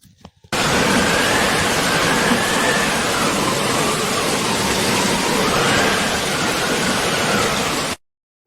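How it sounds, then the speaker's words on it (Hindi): Heavy rain pours steadily after a storm, a dense, loud, continuous hiss that holds unbroken for several seconds before cutting off abruptly. "तेज बारिश होते रहती है"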